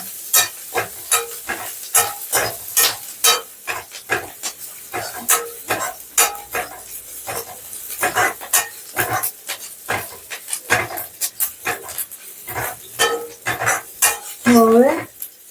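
Chopped ginger, garlic and curry leaves sauté in a pan, a steady sizzle under constant scraping and clinking of a metal spoon, close and fairly loud, with a brief higher squeal near the end.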